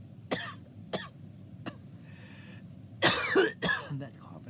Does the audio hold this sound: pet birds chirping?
no